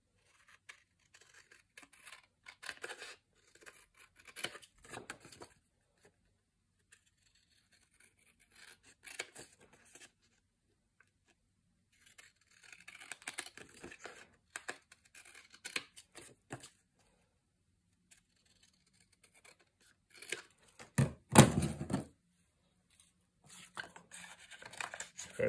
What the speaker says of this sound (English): Let's just trim down to that red border.